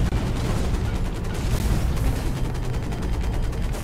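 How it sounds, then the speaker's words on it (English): Mech combat in the shooter video game Hawken, with dense, continuous gunfire and booming weapon blasts filling the whole stretch at a steady loud level, no talk over it. "Shooting stuff!"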